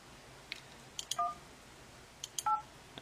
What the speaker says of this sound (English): The phone actually you can dial on here.